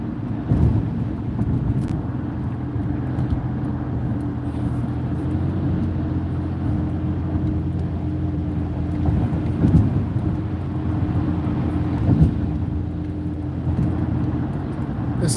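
Interior drone of a car cruising at about 65 on a highway among a group of cars, a steady low rumble with road and wind noise throughout and no talk.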